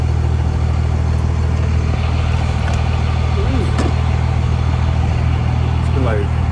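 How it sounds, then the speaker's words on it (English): A loud diesel truck idles right next to the recorder in a steady low rumble that continues without a break, with faint clicks and a passing voice on top. "Sorry about the loud ass diesel truck right next to me"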